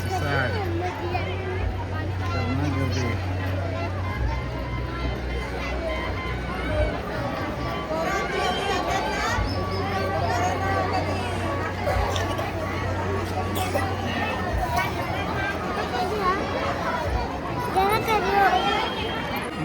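Dense crowd hubbub at a large Mahashivratri fair in Wada beside a river where people bathe, a steady loud babble of many voices throughout with a low hum underneath and nearby voices talking over it.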